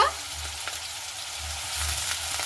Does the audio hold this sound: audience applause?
no